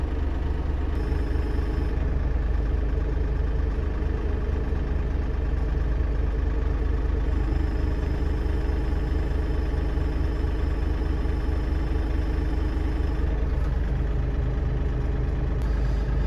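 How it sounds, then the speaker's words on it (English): A wheel loader's heavy diesel engine idles at low revs, a steady deep rumble with a slight rhythmic chug that continues unchanged throughout. "I intentionally keep the RPM super low because it makes the loader move a little slower."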